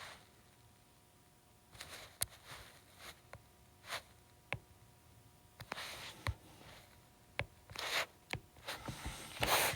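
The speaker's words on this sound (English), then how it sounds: "I'm going to draw my nice straight line through my graph paper" A pencil draws across graph paper in a quiet room, giving short scratchy strokes that come in several separate bursts, soft and close, with silence between them.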